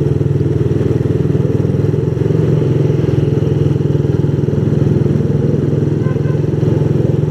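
A motorcycle accelerates hard through city streets in Batam in the early evening, its engine droning loud, close and steady throughout.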